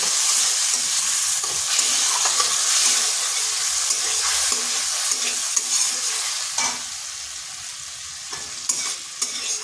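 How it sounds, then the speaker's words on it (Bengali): Grated tomato, ginger and green chilli fry in a pan with frequent scraping stirs over a constant sizzle, close and fairly loud, easing slightly toward the end. "এটা একটু কষে নিচ্ছি যাতে আদার কাঁচা গন্ধটা চলে যায়"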